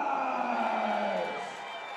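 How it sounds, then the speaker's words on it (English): Packed crowd at the Keenan Arena applauding and cheering kickboxer Muzammal Nawaz, a loud sustained roar of voices and clapping that swells then eases slightly toward the end. "Muzammal gets a big round of applause here, Jim, from this packed house at the Keenan Arena."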